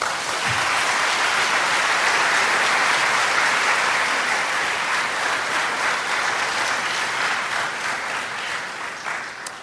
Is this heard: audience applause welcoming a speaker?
yes